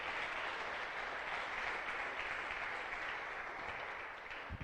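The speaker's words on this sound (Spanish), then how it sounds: "le regalemos una ofrenda de palmas a nuestro gran Dios" Sustained applause from a church congregation offering clapping in worship, dense and even, filling the room at steady volume throughout with no talk over it.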